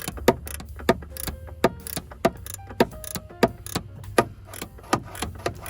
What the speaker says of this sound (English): using the ratcheting box end wrench